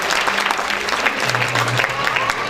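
Loud, dense applause from an audience at a science olympiad prize distribution, steady crowd clapping filling the whole moment with a voice briefly audible over it.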